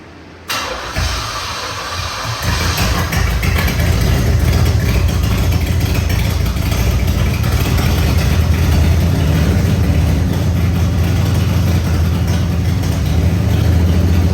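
A third-generation Camaro Z28 V8 with an overhauled fuel system is cranked and catches. The engine then runs at a loud, close, steady idle with a deep rumble throughout.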